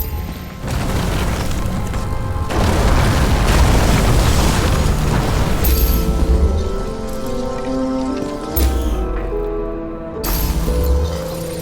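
A loud, sustained explosion rumble with crackling debris and a rain-like hiss in the game Nobody Wants to Die, at a crime scene, swelling and ebbing, then booming again near the end.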